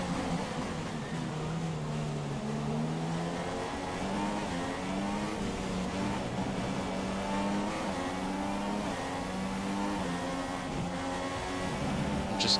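F1 car engine in F1 2016 at the Australian Grand Prix, a loud high-revving whine climbing through gear changes with steady acceleration, rising and stepping pitch sustained throughout.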